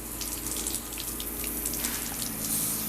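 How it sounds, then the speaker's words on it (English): Water gushes and sprays from a leaking garden hose under high pressure, a steady loud rushing hiss with splashing that runs unbroken throughout, no voices. "The water pressure is too high for it and all the water is just coming right out of the hose."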